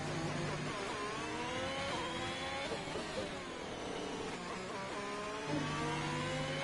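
Racing car engine at full throttle on a hot lap in a sim racing game during an online league round at Portugal, a steady loud high-pitched whine with repeated rising pitch sweeps as gears shift, heard alone without talk.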